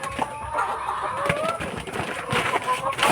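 Breeder chickens cluck and chatter together in their pen, a steady layered flock murmur with occasional louder calls and rustling, carrying on throughout.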